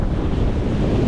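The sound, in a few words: strong wind blowing at a resort terrace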